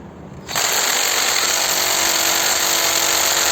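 A Geevorks cordless screwdriver drill runs at torque setting 1, starting abruptly after a brief quiet moment and holding a loud, steady high-pitched motor whine right up close for the rest of the clip.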